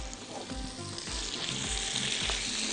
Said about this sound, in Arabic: تشويحة لطيفة مع الفلفل والطماطم